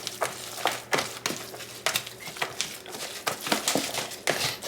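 Wet, rhythmic stirring and scraping as a salmon croquette mixture is worked together with chopped onions and green peppers, steady repeated strokes against a bowl, close and fairly loud with no talking.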